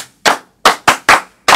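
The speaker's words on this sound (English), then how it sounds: "Clap for yourselves." Students clap for themselves in a classroom, five separate sharp hand claps in an irregular rhythm, loud and close with brief gaps between them.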